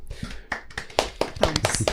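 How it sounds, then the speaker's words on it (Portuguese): Hands clap in a short burst of about eight quick, close, sharp claps at the end of a podcast episode, loud and dry with no talking over them. "Palmas pra esse episódio"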